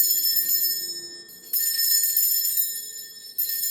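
A small hand bell rings with bright, high, shimmering tones, struck a few times so that fresh rings sound over lingering decay.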